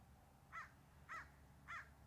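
A crow caws three times at an even pace, fairly faint and distant over a quiet outdoor background.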